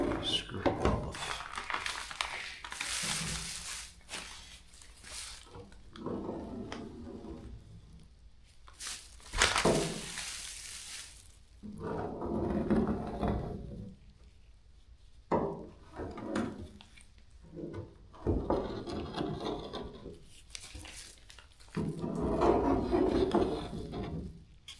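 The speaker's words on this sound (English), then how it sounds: "And all that loose paint is just ready to scrape off" A scraper works loose paint off a jetboat hull after a citrus-based stripper, giving repeated close rasping strokes in uneven bursts with short pauses between them.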